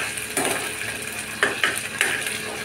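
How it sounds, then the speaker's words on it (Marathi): Ginger garlic paste is stir-fried with onions in a pan for a mushroom gravy masala, with a soft sizzle under a few distinct scraping clinks of a spatula. "आलं लसूण मस्त भाजून घ्यायचं आहे"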